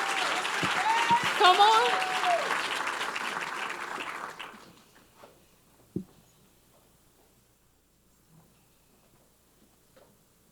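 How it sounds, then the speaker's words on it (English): Applause from an audience at a school district State of the District event, loud and sustained for about four seconds as a student finalist comes forward, then cutting off to near silence with a single knock. A voice calls out over the clapping. "Let's stand and give him a hand clap as he comes."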